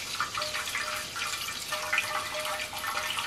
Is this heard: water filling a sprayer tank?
yes